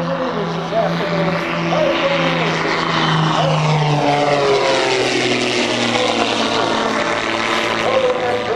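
Propeller aircraft flying in formation at the Oshkosh airshow drone loudly and steadily overhead, engine pitch gliding slowly up and down as they pass, with an announcer talking over them.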